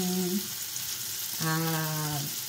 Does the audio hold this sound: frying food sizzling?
yes